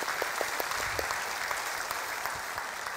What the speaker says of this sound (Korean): 우리 박수로 하나님 앞에 영광을 돌려드리고